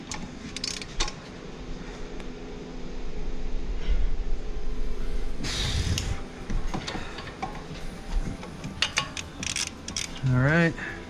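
Loosening bolts on the lower ball joint of a 2016 Dodge Journey R/T: scattered metallic clicks, ratcheting and clinks of tools against parts, with a longer grinding stretch midway and a brief rising whir near the end.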